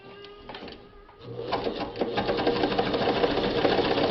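A vintage Kingston Precision Synchro-Matic sewing machine stitches through four layers of denim and a thick seam, starting with a quieter, sparse running and then settling into a loud, steady, rapid needle clatter.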